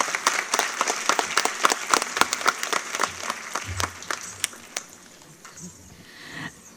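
An indoor audience at a kathak dance school event claps in a lively burst of applause, dense at first and thinning to scattered claps toward the end.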